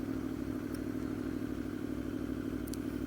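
A 2013 Aprilia Tuono V4 motorcycle idles and creeps through a slow tight turn on a quiet road, a steady low engine rumble with light clatter, close and fairly even throughout.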